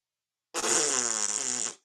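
A person's voice imitates the blatty, farting sound of someone failing to play a trumpet, one sustained buzzing raspberry of about a second, loud and close with no other sound around it.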